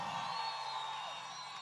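A crowd at a Venezuelan pro-government political march in Zulia state shouts and cheers in a sustained, distant-sounding roar with high whoops riding over it.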